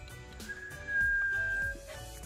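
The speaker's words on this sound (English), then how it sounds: "My whistling is getting bad." A single short, sustained whistle note rings out for about a second, faint and fairly steady, among quiet background noise.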